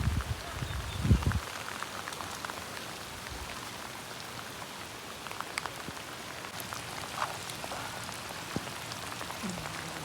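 Heavy rain pours onto rice paddy fields during rice transplanting, a dense, continuous hiss of drops that stays steady for the whole stretch, with a brief low rumble near the start.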